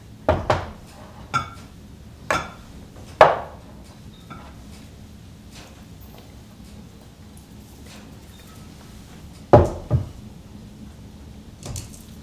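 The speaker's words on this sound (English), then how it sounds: "pour it into this bowl and combine it with half a cup of sugar" Sparse clinks and knocks of a bowl and utensil as melted shortening is poured in and stirred with sugar for pioneer-style gingerbread dough, a handful of sharp close taps separated by quiet pauses.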